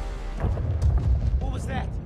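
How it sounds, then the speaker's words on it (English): A deep, rumbling explosion in the video game Spider-Man: Miles Morales booms loudly and swells for about two seconds, with a voice faintly mixed in. "let's go investigate the explosion"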